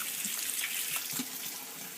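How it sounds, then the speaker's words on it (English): Water runs steadily from a tap in a continuous close hiss while a shotgun is being cleaned, with faint splashes and no voices. "run some water in there"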